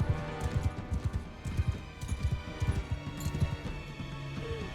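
Horse hooves gallop in the video game Mount & Blade II: Bannerlord, a steady rhythmic clip-clop of rapid hoofbeats running through the whole stretch over a busy game soundscape.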